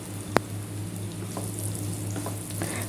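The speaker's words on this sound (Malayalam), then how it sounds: "ആ പാനിൽ തന്നെ എണ്ണ ചൂടായിട്ട് ഞാൻ കടുക് ഇട്ടിട്ടുണ്ട്. അതിനകത്ത് നമ്മൾ സ്ലൈസ് ചെയ്ത സവാള ഇട്ട് നല്ലപോലെ ഇതൊന്ന് മൂപ്പിച്ചെടുക്കാം" Sliced onions with mustard seeds frying in hot oil in a pan make a steady sizzle, with a sharp clack early on and a few faint pops and clinks scattered through, no speech.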